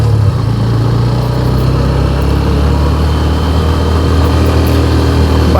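A heavily loaded motorcycle carrying a pillion rider, bags and 8 kg of mangoes labours in second gear up a steep slope, its engine a loud, steady, close drone with no talking.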